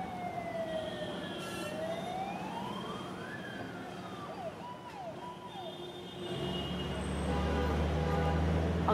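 Fire engine sirens wail at a building fire beside Mumbai's Sessions Court, where a building is under construction; several sirens rise and fall in overlapping sweeps over steady traffic rumble, growing louder and closer toward the end.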